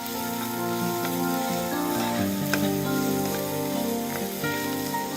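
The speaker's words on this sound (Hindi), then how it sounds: "अच्छी तरह प्याज फ्राई कर लें।" Chopped onion, about 120 grams, frying in a pan with a steady, close crackling sizzle, with occasional stirring scrapes and no voices over it.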